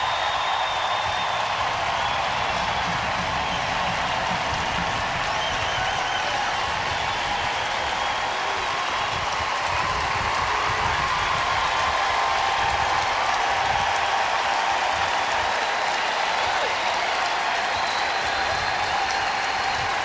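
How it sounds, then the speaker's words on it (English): A stadium crowd at a women's soccer match between Portland and its opponent applauds Tobin Heath, a steady dense wash of clapping and cheering that holds loud and continuous throughout. "That sound you hear is the crowd applauding Tobin Heath."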